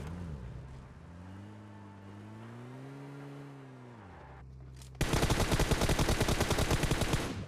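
Rapid automatic gunfire in a mobile battle-royale shooter, fired at a car, bursts in loud and dense for the last couple of seconds after a steady humming engine-like tone with no talk.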